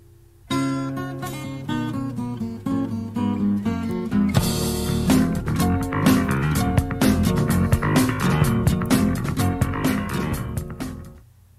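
The To Be Continued meme music: a loud, busy stretch with guitar-like chords and steady beats plays continuously for about ten seconds, then fades out.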